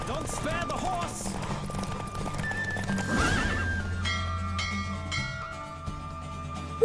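A horse gallops with quick hoofbeats and whinnies loudly in a Witcher 3: Wild Hunt race, racing close by as voices and game sounds play over the steady rhythm.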